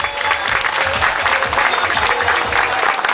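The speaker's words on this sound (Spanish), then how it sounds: "¡Fuerte aplauso!" Loud, continuous crowd applause for a freestyle modern dance group, dense and sustained throughout with no talking over it.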